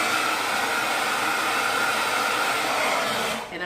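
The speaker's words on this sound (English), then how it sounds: "I'm gonna let the dryer hit this little area right here" A handheld hair dryer runs on its cool setting, blowing close by with a loud, steady whoosh that holds evenly and then cuts off abruptly at the end.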